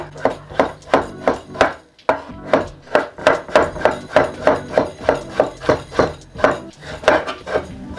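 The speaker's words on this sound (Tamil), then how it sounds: "இப்போ வந்து 2 தக்காளி பழம் எடுத்துருக்கிறேன். அதை வந்து நல்லா சின்ன சின்னதாக கட் பண்ணி" Knife chopping two tomatoes into small pieces on a board, a steady run of sharp, close knocks in quick rhythm with a brief pause partway through, no talk.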